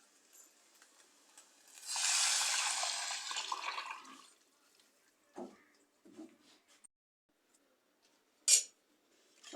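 Curry of dried prawns and raw mango boiling in a clay pot gives a steady bubbling, hissing burst for about two seconds, then drops to near silence with a few faint clicks and a short sharp clink.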